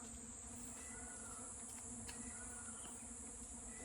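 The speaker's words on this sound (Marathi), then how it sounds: "आवाज बघा कसा येतोय, माशांचा आवाज येतोय सगळीकडून" A constant buzz of flies drones on from all around, faint but unbroken, with a steady high whine and no voices.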